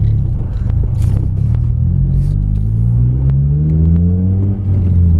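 Acura RSX Type S four-cylinder engine with a Full Spec D cat-back exhaust, heard from inside with the windows up: a loud, steady low drone and rumble that rises smoothly in pitch as the car accelerates, with faint clicks over it.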